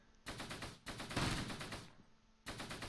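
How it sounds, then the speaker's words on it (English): Gunfire in the WWII video game Close Combat: several short bursts of rapid shots separated by brief gaps, faint and somewhat distant. "I'm too used to hearing the gunshots right now"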